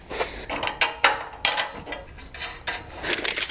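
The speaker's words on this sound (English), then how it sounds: "Go ahead and tighten those down with your 9/16 socket and wrench" A socket wrench ratchet clicks in quick uneven bursts while tightening 9/16 bolts on a trailer, close and crisp.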